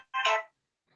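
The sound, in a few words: mobile phone ringing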